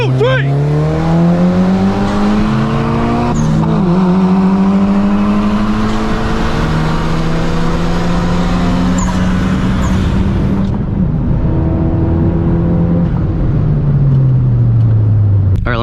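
A tuned 10th-gen Honda Civic Si and a 2005 Mitsubishi Lancer Evo VIII drag race from a roll in second gear, engines revving loud and close with rising pitch through gear shifts, heard from inside a car.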